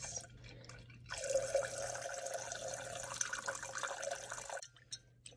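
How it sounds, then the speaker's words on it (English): Melted candle wax poured into a container, a steady close liquid trickle lasting a few seconds before stopping, with faint dripping afterward. "I pour my wax. Okay, I'm just gonna get the wax directly in there."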